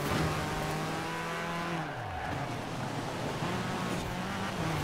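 A high-revving naturally aspirated sports car engine in the Forza Horizon 4 racing game roars continuously, its pitch dropping on a gear change and then climbing again, with some tire noise.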